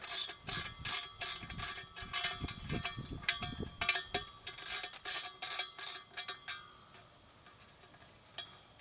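Ratchet wrench loosening bolts on a DIY handrail outdoors: rapid clicking pawl bursts come in uneven strokes, close and bright, then thin out and fade toward the end.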